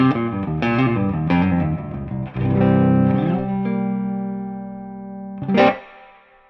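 An electric guitar plays through a 2-Rock Studio Signature amp with the amp's reverb on: distorted notes and a held chord ring out and decay, closed by a final strum, close and alone.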